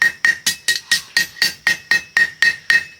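A blacksmith strikes hot metal with a single hammer, about a dozen sharp, ringing blows in a steady rhythm, close and loud with no talking.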